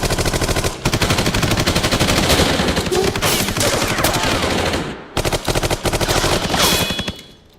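Soldiers' gunfire in a movie battle scene rattles in long, dense machine-gun bursts, close and loud, with a short pause before the volleys resume; no voices.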